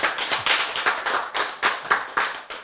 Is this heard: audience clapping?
yes